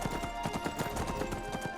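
Hooves clip-clop rapidly and steadily as a horse trots in Skyrim, a close, even rhythmic patter running throughout with no speech over it.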